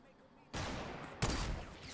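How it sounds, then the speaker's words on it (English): Two loud bursts of video game gunfire in a shooter, the first sustained and the second louder, with heavy broadband crackle and a quiet gap before the shooting starts. "I shot the guy."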